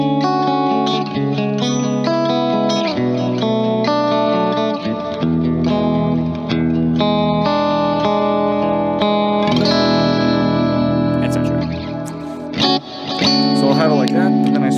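Electric guitar played with a clean tone through an effects unit, chorus and reverb shimmering over sustained chords and arpeggiated notes, loud and continuous.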